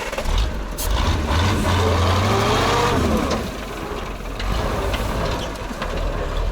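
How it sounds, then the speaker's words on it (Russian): A Kolkhida truck on Ural tyres labours off-road, its engine revving loudly and rising in pitch before easing back to a rough, droning pull, heard close up with no speech. "Давай большую передачу попробуй и газу!"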